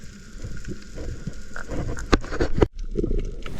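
Mechanical ratcheting clicks and clacks as an inverted speargun is cocked, a few sharp loud snaps near the end over a background of rain and workplace noise, with no voices.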